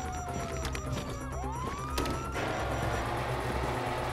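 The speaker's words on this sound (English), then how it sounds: "you hear that? Sirens." Police sirens wail in rising and falling sweeps over a busy, noisy street scene, the siren loud and close while a second siren tone overlaps, with traffic rumble and crowd noise underneath.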